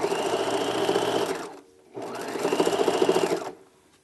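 Sewing machine stitching a fabric seam on a drawstring backpack, running steadily in two bursts of about a second and a half each, separated by a short pause, loud and close with no talking.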